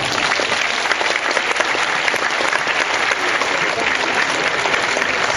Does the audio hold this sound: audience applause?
yes